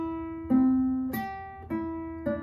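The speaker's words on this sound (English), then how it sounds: "Oops, a little buzz in there." A guitar lesson student picks four single notes one at a time, each ringing with steady harmonics, and one of them carries a slight string buzz; no one talks over the playing.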